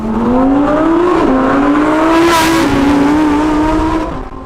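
Lamborghini Huracan STO track car engine revving loud and close, a sustained high-pitched wail rising and dipping through gear changes with no talk over it.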